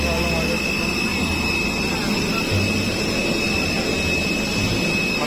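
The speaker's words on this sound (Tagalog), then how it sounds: "Pasok ng aeroplano." Airplane jet engine roar heard from inside or near an aircraft in Mindanao, a loud steady broadband drone with a constant high whine, continuous throughout.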